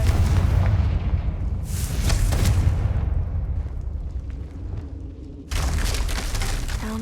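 A Confringo blasting spell goes off in the Hogwarts Legacy video game, with loud, deep, rumbling explosive booms that swell and fade, then a sudden fresh blast near the end, and no talk.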